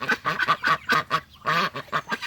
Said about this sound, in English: One of the loud ducks